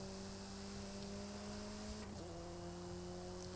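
Supercar engine in Forza Horizon 5, driving through Mexico in an open-topped car: a steady droning hum with sustained harmonic tones that dip briefly as if shifting gear, then hold on.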